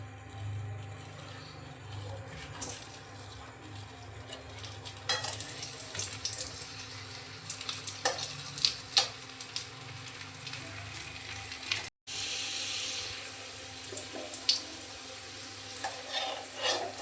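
Potatoes fry in oil in a wok after fish roe, a steady close sizzle with occasional stirring clatter and a brief break partway through.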